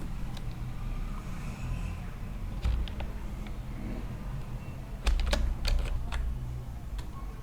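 Keystrokes on a computer keyboard while entering a password to create a Proton VPN account, scattered and then a quick cluster of close, crisp clicks over a steady low background hum.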